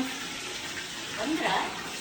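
Tap water runs in a steady rushing stream to water plants, heard close and continuous with a slight swell near the end.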